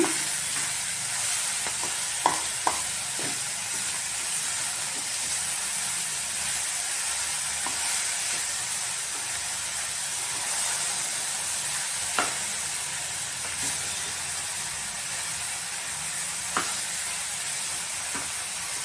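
Cabbage and field beans cooking with tempering in a pan, a steady frying sizzle and hiss running throughout with occasional scrapes and clinks of a spoon stirring, close and alone without voices.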